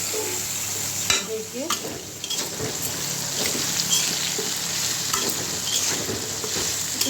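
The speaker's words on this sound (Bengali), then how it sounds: "এখন বেগুন ভাজিগুলো বসাবো।" Eggplant and potatoes sizzle steadily in hot oil, with stirring and scraping in the pan nearby. A short spoken word is heard near the start.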